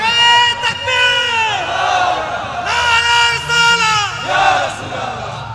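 A large crowd at a religious gathering chanting takbir in unison, loud sustained massed voices rising and falling in repeated swells of call and response.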